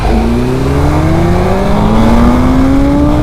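KTM 1390 Super Duke and BMW M1000R motorcycles accelerating hard from a standing start, a loud close engine roar rising steadily in pitch through the gear, continuous and without speech.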